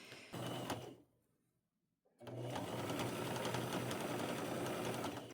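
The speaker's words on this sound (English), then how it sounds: "I won't even pin this, and sew all the way down." Close, loud sewing machine stitching a skirt seam at a 1/2 inch allowance, running in a short burst, pausing briefly, then stitching steadily and continuously to the end.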